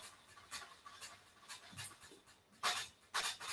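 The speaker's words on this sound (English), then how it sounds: "No, it's the dog." An American Pit Bull Terrier pants in a kennel cage, with quick rhythmic breathy bursts, a faint whimper and louder rustling pants toward the end, heard fairly close.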